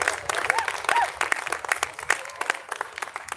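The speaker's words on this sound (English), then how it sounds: "let's give one more round of applause for our Mocochetes band" An outdoor rally crowd at La Raza Park clapping and cheering for the Mocochetes band, lively scattered applause with whoops and some voices mixed in.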